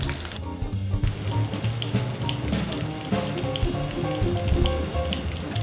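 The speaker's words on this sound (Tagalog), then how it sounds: "pwede nang iprito ang ating lumpiang galunggong" Steady crackling sizzle of galunggong fish lumpia frying in hot oil, a dense bubbling hiss that continues without pause and with no voices.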